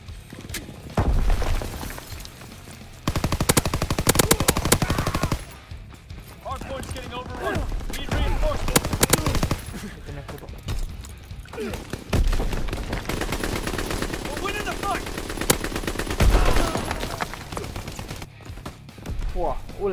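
Gunfire in Call of Duty WW2, with loud, dense bursts of rapid shots and booming blasts coming in waves over about twenty seconds, and someone talking throughout.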